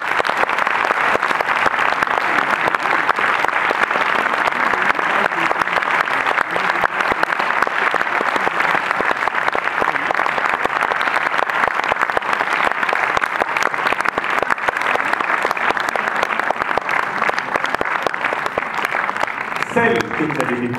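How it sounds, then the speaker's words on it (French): An audience at a film premiere gives a standing ovation, with dense, sustained applause filling the room for the whole stretch, loud and continuous without a break. "Merci de faire une ovation"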